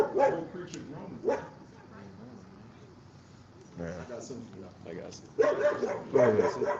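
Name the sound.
dog barking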